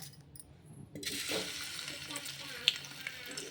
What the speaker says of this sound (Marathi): माझं तेल तपलेलं आहे आता टाकणार आहे मी बटाटा